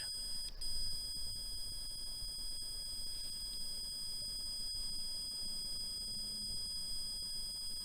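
A REM pod paranormal detector sounds its alarm, a continuous high electronic tone that holds steady and shifts pitch once near the start, with faint ticks and background rustle underneath.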